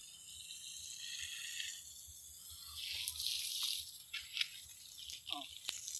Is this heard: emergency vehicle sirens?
no